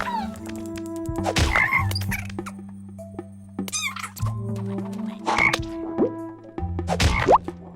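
Cartoonish frog croaks and plopping sounds from the video game Tokitori 2, several short bursts spread over a looping game music backdrop, fairly loud and close with no talking.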